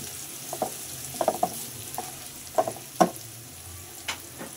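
Onions frying in a pan until browned for a home-style country chicken and chapila fish recipe, with a steady low sizzle broken by several sharp stirring clatters and scrapes, close and fairly quiet, no voices.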